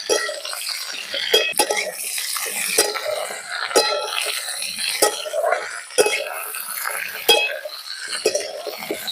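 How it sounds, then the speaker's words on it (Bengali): Jujube fruit being stirred and fried with tempering spices in a pan, with scraping and clattering spoon strokes over a soft sizzle, fairly near and continuous. "এবার ফোড়নের সঙ্গে আমি কুলগুলোকে নেড়ে চেড়ে একটু ভাজা ভাজা করে নিচ্ছি"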